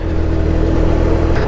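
A car passes close by on a dusty off-road track toward a waterfall, its engine a loud, steady mid-pitched rumble throughout.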